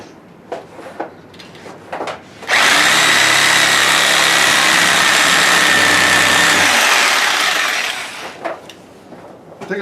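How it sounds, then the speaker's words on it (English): A Sawzall reciprocating saw with a sharp blade cuts into a 1970 Dodge Dart's body panel, a loud steady buzzing roar lasting about five seconds before winding down, with quieter clunks and handling noises around it. "So I got my Sawzall."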